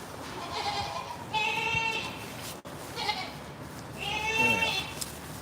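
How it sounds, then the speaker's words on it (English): A young goat kid bleats in drawn-out, wavering calls on a farm, two loud cries close by, with faint background bustle around them. "I'm going to need to tube feed my little goat, Goaty Dinah."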